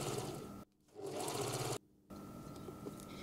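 A sewing machine stitches pocket lining to shell fabric in two short whirring runs, each cut off by a brief stop, close and quiet with no talking.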